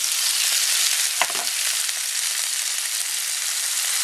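Tomatoes sizzle steadily in a hot pan while being sauteed for a Filipino clam soup (ginisang halaan), with a brief clatter of stirring partway through.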